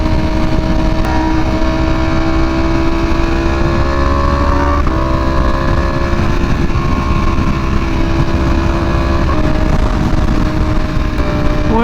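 A Ducati V4R motorcycle fitted with a new aftermarket exhaust is being ridden, its engine a steady loud drone with shifting pitch as the rider changes speed, heard up close throughout.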